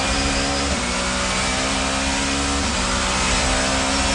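BMW and Volvo touring cars from a 1990s touring car championship race through a chicane, engines roaring loud and steady, with slight pitch dips as they brake and change gear.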